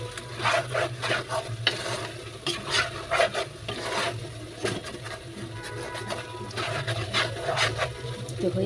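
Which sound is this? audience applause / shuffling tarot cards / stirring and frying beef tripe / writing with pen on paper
stirring and frying beef tripe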